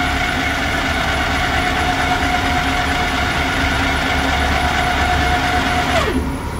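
A Kearns & Richards CNC table-type horizontal boring mill runs as a loud, steady machine hum with a sustained whining tone that sweeps down sharply near the end.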